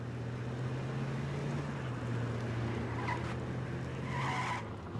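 A Jeep in the H1Z1 video game drives with a steady low engine drone under broadband road noise, and a brief tire squeal near the end.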